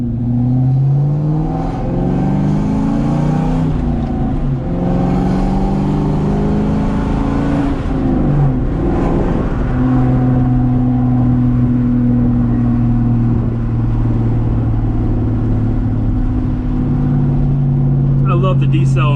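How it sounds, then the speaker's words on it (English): A 1997 Ford Mustang Cobra with an aluminum-block engine revs up and then decelerates while driving, a loud, deep, aggressive exhaust note rising and falling close inside the car, with someone talking over parts of it. "I love the decel in this car. This sounds so mean, so aggressive, man."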